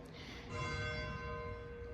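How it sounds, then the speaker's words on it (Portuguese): A church bell rings out with a sustained, humming tone that swells and then slowly decays, soft and somewhat distant. "O sino da igreja nos anunciam as horas"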